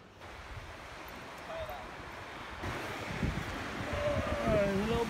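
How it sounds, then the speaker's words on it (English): Surf breaks on the sand at Oxwich Bay, a steady wash under gusty wind buffeting the microphone, growing a little louder toward the end with faint distant sounds in the background. "Beautiful beach."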